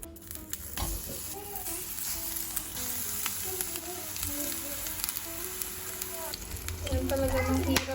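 Eggplant frying in oil in a home kitchen, giving a steady close sizzle that runs the whole time with a few stirring knocks, while a voice talks quietly over it.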